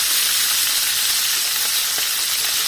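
Ginger and onion fry in a hot pan with a loud, constant, close sizzle and crackle that stays even from start to finish, without any talking.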